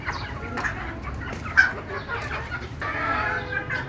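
Native Bangladeshi hens in a shed cluck and murmur close by in short, irregular bursts, with a brief sharper call near the middle and no speech.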